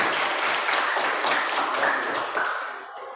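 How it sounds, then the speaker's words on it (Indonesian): Classroom audience applauding, a dense sustained wash of clapping that stays loud and steady, then tapers slightly toward the end. "Oke, berikan aplaus."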